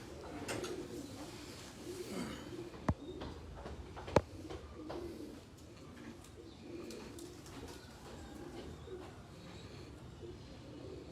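Cheena pigeons coo softly in the background, low murmuring calls amid faint ambient noise, broken by a couple of sharp clicks.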